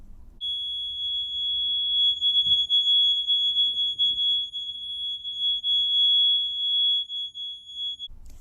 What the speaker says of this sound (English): Then I hear a really high-pitched beep.